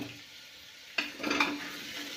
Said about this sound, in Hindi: अभी थोड़ी देर और पकाएंगे अच्छे से, तब इसमें मसाले डालेंगे।